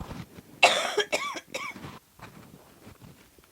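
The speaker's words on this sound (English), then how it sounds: "I do have a cough, so if I stop every so often to cough" One sharp, close cough bursts out, followed by a couple of smaller coughs and throat noises, then quiet breathing.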